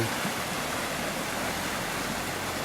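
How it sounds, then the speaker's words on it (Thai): A small cold stream runs beside the Huai Bong tent ground in Tad Mok National Park, making a steady, even rushing wash that is close and continuous, with no talking. "ก็จะมีลำธาร เล็กๆนะครับอยู่ด้วย ซึ่งน้ำเย็นมากครับสวย"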